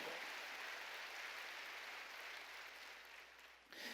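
A church congregation claps together in praise to God, a faint, steady wash of many hands filling the room before tapering off near the end.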